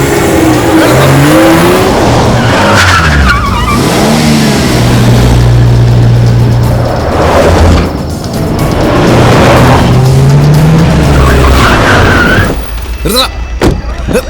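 A car races at speed during a chase, its engine revving hard and rising and falling through gear changes under heavy film music, loud and close throughout, with brief sharp hits near the end.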